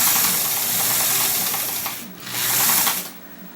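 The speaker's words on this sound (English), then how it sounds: "we stick it in our little sewing machine here" A small sewing machine stitches a nylon webbing loop with nylon thread, a loud rapid mechanical whirr that runs steadily, pauses briefly, then resumes before stopping.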